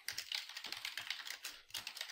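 Rapid, uneven keystrokes clatter on a computer keyboard as a Cisco router configuration command is typed, the clicks close and clear with no talking.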